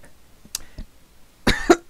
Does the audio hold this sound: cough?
yes